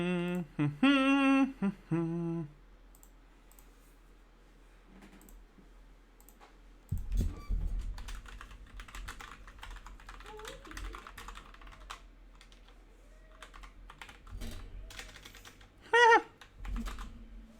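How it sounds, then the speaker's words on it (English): Someone types on a computer keyboard in uneven bursts of quick clicks with pauses between them. A voice talks briefly at the start, and the clatter picks up again and grows busier toward the end. "My typing is all sorts of fuck today."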